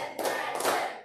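A class of children clapping their hands to a counted rhythm, with a few soft, fairly faint claps and thuds in quick succession, cut off by a short voice at the end.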